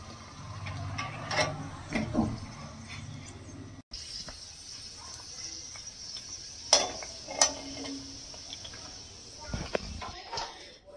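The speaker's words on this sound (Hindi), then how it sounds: "तो ये हमारी पूरी तल रही हैं।" Puris deep-frying in hot oil: a soft, continuous sizzle broken by scattered clinks and scrapes of a utensil in the pan, heard close.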